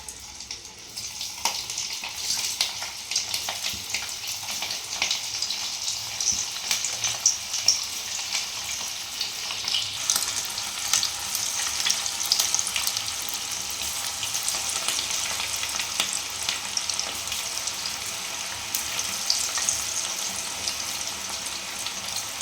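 Soybean chunks frying in hot oil over a high flame, a continuous crackling, hissing sizzle that holds steady and slightly intensifies over about twenty seconds, with no voices.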